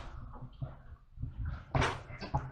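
A drawer slides open in a quiet room, heard as soft rustling followed by a short, brighter scraping rush near the end.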